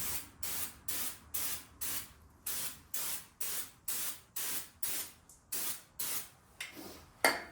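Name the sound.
aerosol brake cleaner being sprayed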